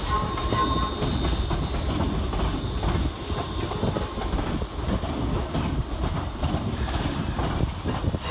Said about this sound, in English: Over on the far side departing is 380116, departing with the 1506 ScotRail service to Neilston via Pollock Shields